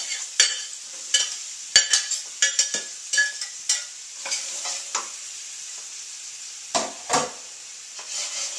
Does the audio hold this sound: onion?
yes